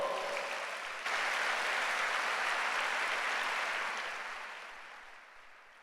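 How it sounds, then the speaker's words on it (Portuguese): A church congregation at an El Shaddai churches congress applauds, a broad wash of clapping that starts at moderate level, swells after a second, then gradually fades away. "Vamos dar um aplauso ao Senhor?"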